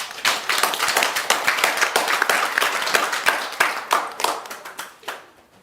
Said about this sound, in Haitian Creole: N'a demandé applaudissements s'il vous plaît pour Team Yo